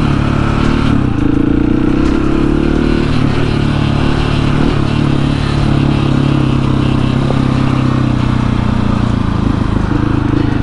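A 701 motorcycle rides on a flat tyre at steady throttle, its engine holding a loud, continuous, even drone with faint clatter throughout.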